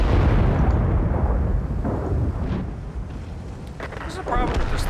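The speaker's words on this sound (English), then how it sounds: "I'm getting shot to shit" Tank gunfire and explosions in the World of Tanks video game rumble as heavy, booming blasts and a dense low roar, with a voice talking over the battle noise.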